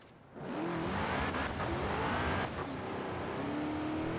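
A Forza Horizon 4 car on drag tires launching on beach sand, its engine jumping to a loud, sustained high rev with rising and falling tone as the tires spin, no speech.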